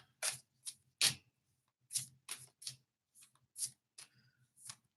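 Oracle cards shuffled by hand, a series of quick crisp riffling bursts in an irregular rhythm, close and fairly loud with short pauses of silence between them.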